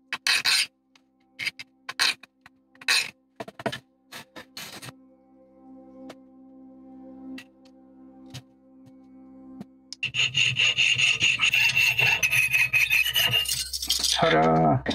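Rhythmic rasping strokes of a hand file on brass, a series of short scrapes followed by a louder, continuous stretch of filing.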